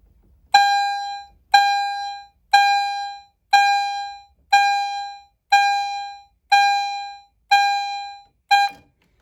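An Edwards Genesis fire alarm chime strobe strikes nine times at a steady, roughly one-second pace, each bright tone ringing out and decaying before the next.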